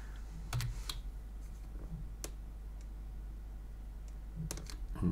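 Sparse computer keyboard key presses, a few isolated clicks and a short cluster of taps, close and fairly quiet over a steady low hum.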